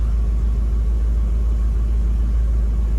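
1966 Ford Mustang convertible running at a steady high idle after a cold start, a loud continuous low engine rumble close by with no voices.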